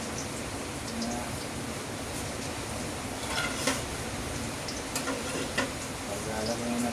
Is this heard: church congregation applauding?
no